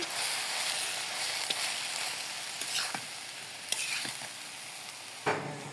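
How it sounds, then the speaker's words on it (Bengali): Jute leaves fry in oil in a village kitchen with a continuous bright sizzle, broken by several sharp spatula scrapes and clacks against the pan. "আমি কিন্তু পাট শাকটা কিন্তু তেলে দিয়ে দিলাম"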